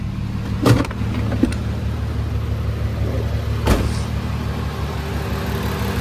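A VW Jetta VR6 engine with a straight pipe exhaust runs at a steady low, rumbling idle close by, with a couple of sharp clunks and clicks over the drone and no talking.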